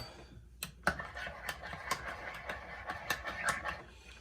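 A spoon stirring instant coffee clinks repeatedly against the inside of a mug in quick, uneven taps, close and fairly crisp.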